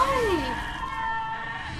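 A sheep in the video game Albert and Otto lets out a loud, wavering scream that slides downward and then trails off into a thinner, sustained tone.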